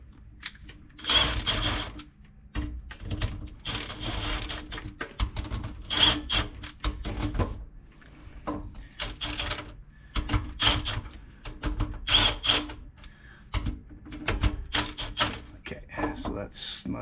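A wrench snugging an intake fitting on a Camaro's tunnel ram intake, with repeated short metallic clicks and ratcheting bursts at an irregular rhythm, close and fairly quiet.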